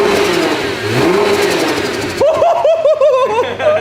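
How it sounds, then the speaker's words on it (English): A Nissan GTR engine, built to 800 horsepower, revs hard in a steady roar, then drops into a run of short blips, each one ending in a sharp hiss from the blow-off valves, close and loud. "Hannah, give it a little rev."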